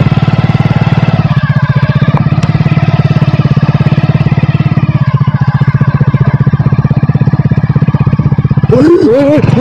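Motorcycle ridden at night along a badly broken rough road, its engine a loud, close, steady rapid thrum throughout, with a brief voice at the very end.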